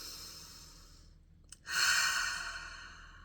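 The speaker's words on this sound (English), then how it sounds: "Take a couple of deep breaths." One slow, deep breath drawn in and let out near the microphone, starting as a soft inhale and ending in a louder, airy sigh of release, heard alone.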